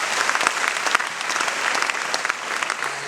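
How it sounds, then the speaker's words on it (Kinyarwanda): A congregation at a church seminar claps steadily, a dense, fairly loud applause that continues throughout without speech over it. "Reka tumukomere amashyi."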